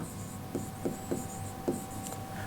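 Chalk or marker tapping and scratching on a board during a classroom lecture, a few short strokes spaced unevenly, fairly quiet against a steady background hum.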